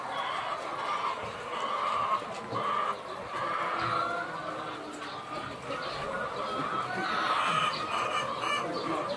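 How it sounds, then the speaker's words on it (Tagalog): Layer hens on a farm in Oriental Mindoro cluck and crow continuously, a busy chorus of overlapping calls at moderate distance with a few brief louder squawks. "Yan yung mga manok na nangingitlog nung kinakain nating"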